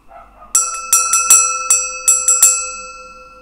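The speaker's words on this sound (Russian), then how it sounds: "Видите, купила колокольчик для прислуги. Целый день звоню, никто не идет." A small hand bell for summoning servants rings in a quick series of about eight bright metallic strikes, each chime ringing on and decaying, loud and close with no talk.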